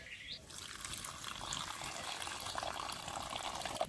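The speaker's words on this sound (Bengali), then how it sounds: "জলটা একদম পরিমাণ মতো দিতে হবে পঞ্চাশ গ্রাম জল" Measured water being poured into a pan for vermicelli syrup, a soft, continuous splashing trickle heard up close and fairly quietly, with no talk.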